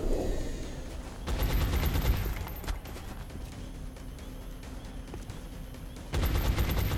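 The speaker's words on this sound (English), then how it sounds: "Taking fire over here. These sectoids are gunning." Sectoid aliens fire weapons in a battle in the video game XCOM, with loud bursts of rapid gunfire at the start and end and quieter, sputtering shots in between.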